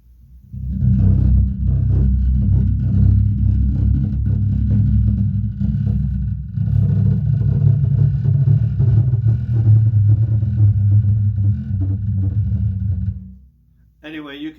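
Slow pick scrape along electric guitar strings, producing a deep, sustained rumbling drone that runs loud for most of the stretch, briefly dipping midway, then cutting off near the end.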